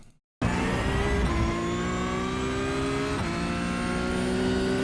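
A Porsche GT3 Cup 992.1 engine in the iRacing sim at Virginia International Raceway, heard after a brief silence as a loud, steady, rising engine note with climbing harmonics and a short dip near the middle, with no talking.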